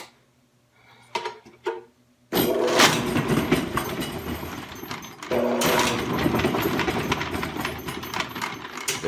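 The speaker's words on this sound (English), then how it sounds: "An introduction to my newest drain cleaning auger" A Vevor commercial-grade electric drain auger motor starts up and spins loudly and steadily at close range, a dense mechanical whir and rattle with a brief surge partway through, after a few quiet clicks.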